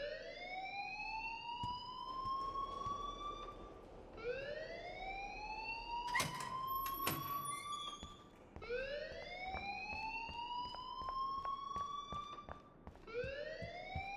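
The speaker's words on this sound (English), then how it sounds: "please turn off that alarm since that's your job" A fire alarm in Life Is Strange wails with repeated rising sweeps, each lasting a couple of seconds, cycling steadily and loudly with sharp clicks and chirps scattered among them and nobody speaking.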